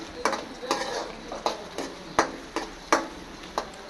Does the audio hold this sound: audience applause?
no